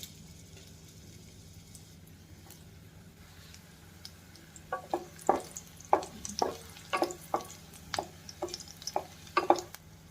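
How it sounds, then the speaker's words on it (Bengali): Grated coconut fries in hot oil in a wok; a faint low hiss runs at first, then a burst of close, crisp stirring scrapes and clatters fills the second half. "কড়াইতে তেল গরম হয়ে গেলে আগে নারকেল কুচিগুলো ভেজে নেব।"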